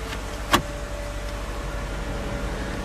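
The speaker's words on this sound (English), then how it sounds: "And I'll start the vehicle." A car engine cranks with a short sharp catch and settles into a steady low idle hum, heard up close in a parked vehicle on a mild day before its air conditioning is switched on.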